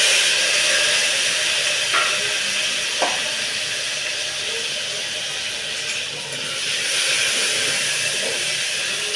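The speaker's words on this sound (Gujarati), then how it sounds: "થોડી વાર સાતરવા દેવાની" Green chillies and tomatoes sizzle steadily in a hot pan for a Gujarati galka khichdi, a loud continuous hiss with a couple of brief clinks of a spoon against the pan.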